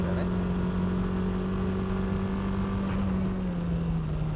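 A car held in a steady engine drone as it slides sideways on the e-brake during a drift, the tone sinking slightly toward the end, loud and continuous with no speech.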